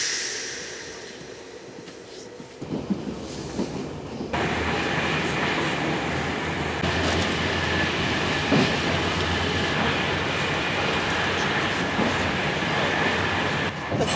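A train in Portugal rolls along the rails, heard from inside the carriage as a steady loud rumble with rattling and jolts, rising in level partway through and then holding constant.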